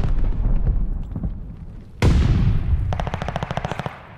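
Gunfire in a first-person shooter video game: scattered shots, then a sharp loud blast followed by a rapid, rattling automatic burst, all close and without speech.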